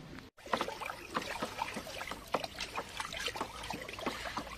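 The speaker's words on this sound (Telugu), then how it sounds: "కట్టితో బాగా కలపమ్మా." A stick swirls through a soil-and-water solution in a container, giving irregular sloshing, trickling and knocking sounds, close up and moderately loud, with no talk over them.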